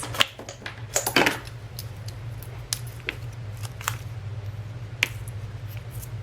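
Scissors snip through craft material, likely vellum, in a series of close, crisp clicks and cuts, irregularly spaced over a low steady hum in a quiet room.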